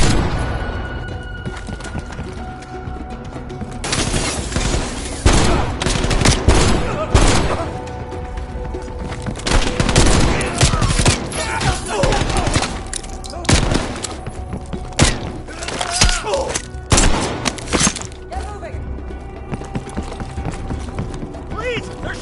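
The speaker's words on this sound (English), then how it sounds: "They're shooting at us!" Gunfire crackles through a Call of Duty: Black Ops Cold War firefight, dense irregular bursts and single shots packed close together, with voices shouting under the shooting.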